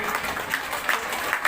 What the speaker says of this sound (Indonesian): Maka kita berikan tepuk tangan kepada seluruh